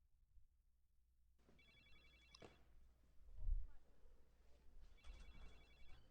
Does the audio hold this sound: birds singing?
no